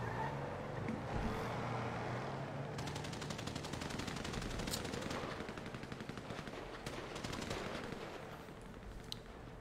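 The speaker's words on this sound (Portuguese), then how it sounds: "Eu dei tiro, mas foi no pescoço do maluco." Sustained gunfire in a roleplay video game, with rapid automatic bursts and scattered shots over a constant rumbling bed of vehicle and environment noise, loud and continuous throughout.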